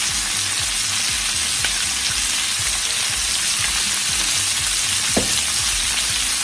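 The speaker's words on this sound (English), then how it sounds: "I'll simmer it." Vegetables simmer and sizzle in a pot, a steady close crackling fry with frequent soft bubbling pops and an occasional faint clink throughout.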